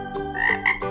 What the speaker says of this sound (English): And it's a little frog.